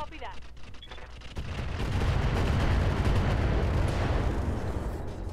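Weapons fire in the BattleTech mod Roguetech, a dense, roaring barrage of cannon and missile blasts that swells after a quieter start and holds loud and continuous, with a few sharper reports at the beginning.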